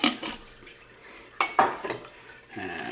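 Oats being mixed into a bowl for chocolate cherry bars, with a spoon clinking and scraping against the bowl in a few short bursts.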